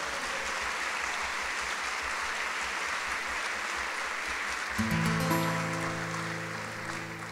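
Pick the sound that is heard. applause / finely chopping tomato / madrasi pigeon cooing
applause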